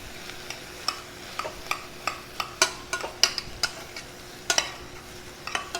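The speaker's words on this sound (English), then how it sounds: "the squash is cooking down" Squash cooks down in a pan with a quiet steady sizzle, broken by a run of sharp clicking scrapes and taps from stirring at an uneven pace.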